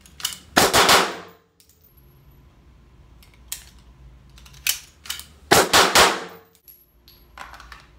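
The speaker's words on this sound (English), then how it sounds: "So it's gonna look super duper quick when I actually draw the gun and shoot." Handgun drawn and fired at reactive targets, several sharp loud reports in two bursts of close shots, with metallic ringing and quieter clanks between them.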